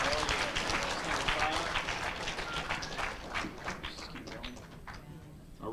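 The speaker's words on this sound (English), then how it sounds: "Give him a round of applause." An audience at an eighth-grade school spelling bee claps for a contestant: several seconds of dense applause that slowly thins out, with some voices underneath.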